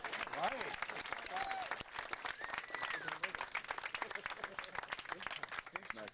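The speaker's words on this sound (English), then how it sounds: "Ladies and gentlemen, a big round of applause for our keynote speaker" A crowd at a 2015 Memorial Day celebration in Smith Park applauds the keynote speaker, steady clapping with voices and cheers mixed in throughout.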